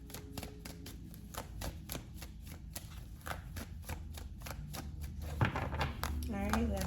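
Tarot cards being shuffled by hand, a fast run of crisp riffling flicks close up, with speech over parts of it and a brief clack near the end.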